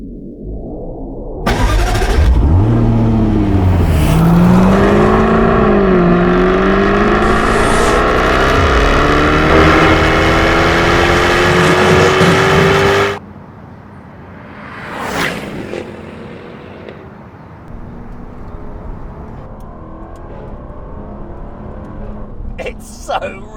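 A Jaguar F-Type R75 sports car engine barks into life and revs hard, roaring loudly for several seconds, then cuts off; faint voices and rumbling follow.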